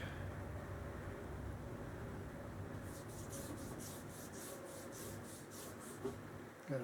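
A rusty Crosman 760 airgun part is scrubbed back and forth with green Scotch-Brite, making a soft, rhythmic rasping rub in several strokes over a steady background hum.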